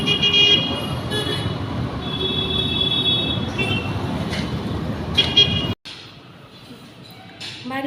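Busy traffic rolls along a wide road, with car horns sounding in steady tones over the continuous engine rumble and faint voices. The roar cuts off abruptly near the end, then a quieter hum continues.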